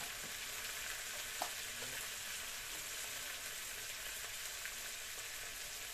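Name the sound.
water added to sizzling pan of eggplant sambal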